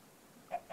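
A chicken in Minecraft (FTB Sky Odyssey modpack) gives two short, close clucks about a fifth of a second apart, over a quiet game background with no talking.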